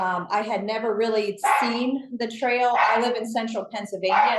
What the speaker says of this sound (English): so sorry, that's my dog.